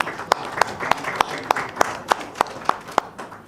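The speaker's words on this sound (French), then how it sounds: "je vous prie d'applaudir et d'accueillir bien fort Mouska." Journalists and guests at a press conference in Kinshasa clap in a steady, evenly spaced rhythm of sharp, close claps over a murmuring room.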